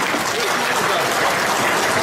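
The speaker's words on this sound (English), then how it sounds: "Give her a big round of applause." A banquet audience at a Chinese community New Year gala dinner in Australia claps loudly and densely, a sustained full-room burst of applause with a murmur of crowd voices.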